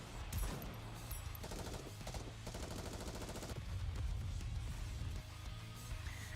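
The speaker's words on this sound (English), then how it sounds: "Everyone in Absolute opens fire." Sustained automatic gunfire from a squad in the video game Goddess of Victory: NIKKE, rapid bursts and overlapping shots rattling densely and continuously at moderate loudness.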